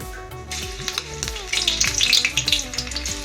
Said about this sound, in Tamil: அந்த கருவேப்பிலையும் போட்டு பெரட்டிக்கிறேன்